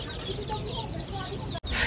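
Chickens cluck continuously at a poultry shop selling chicks and ducklings, a close, busy chorus of overlapping clucks and peeps that runs through the whole moment with a brief cut near the end.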